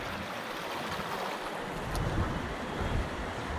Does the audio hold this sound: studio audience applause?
no